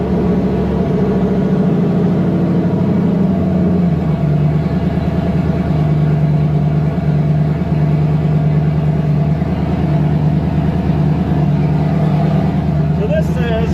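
A car engine runs close by at a steady idle, then gets a light touch of gas that gently lifts the revs before it settles into an even drone, with someone talking over it.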